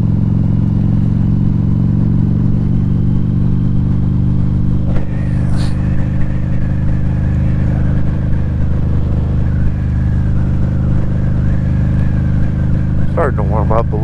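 A 2012 Harley-Davidson V-Rod Muscle cruises at around 2,000 RPM, its engine droning steadily and close for the whole stretch with wind noise, a short rev change midway and a brief clatter near the end.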